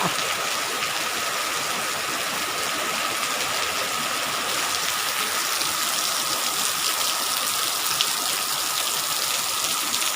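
Steady rain hisses continuously, a dense even patter with no breaks.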